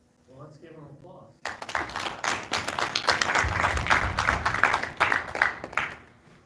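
An audience at a school recognition event breaks into applause after a brief spoken line, the dense clapping swelling loud and steady with voices and cheers mixed through it.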